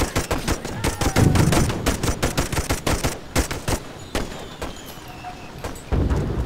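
Rapid bursts of machine-gun fire in the Toy Soldiers video game, set in a WWI Langemarck 1914 campaign, crackle loudly in repeated volleys with brief gaps, gunshots close and dominant throughout.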